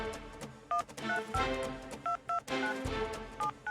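Telephone keypad tones, a quick series of short beeping DTMF presses in an irregular rhythm, clear and close, with no voices.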